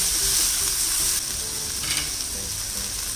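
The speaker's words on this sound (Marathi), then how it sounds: "यामध्ये आपल्याला आता हे मटार घालायचे. हे फ्रोझन मटार आहेत." Frozen peas fry in a pan for crispy matar pattice, giving a loud, steady, hissing sizzle that runs without a break, with faint stirring scrapes under it.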